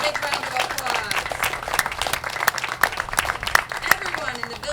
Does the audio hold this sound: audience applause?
yes